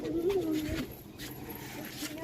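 Pigeons coo at close range on a rooftop, a low soft burbling call rising and falling over a little under a second, then fading into faint background noise and rustling.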